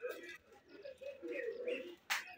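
Giribaz pigeons coo close by in soft, repeated throaty murmurs, with a brief sharp noise near the end and faint voices in the background.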